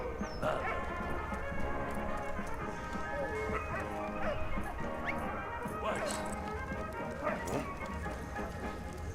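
A dog in the World War I video game Valiant Hearts gives a run of short, repeated barks and yips, fairly close, over a steady game background.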